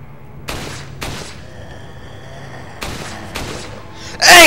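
Gunfire in Resident Evil 4: four sharp, loud shots spaced unevenly over a few seconds, followed by a brief burst of noisy impact at the end, with no talking.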